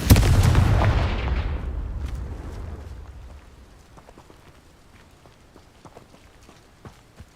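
Confringo fire spell blast in Hogwarts Legacy, a loud booming burst up front that decays into a long rumbling tail with scattered faint crackles and small pops afterward.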